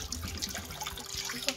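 A thin stream of water drains from a heat pump into a small bowl, a soft steady trickle with faint splashing. It stays low and close, with no voices over it.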